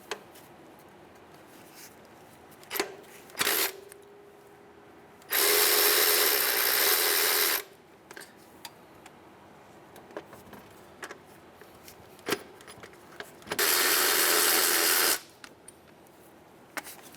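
Work on a 2003-2011 Honda Element, taking out 12mm power steering pump bolts: two long, loud bursts of a power tool spinning, separated by scattered clicks and clunks of handling metal parts, with no talking.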